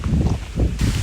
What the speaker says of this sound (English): So apologies for the wind